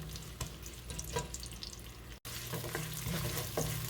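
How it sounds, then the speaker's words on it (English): Onions sautéing in a pan, a steady soft sizzle with faint stirring scrapes, close and continuous, briefly cut by a moment of silence midway. "We're going to saute this for a bit until translucent."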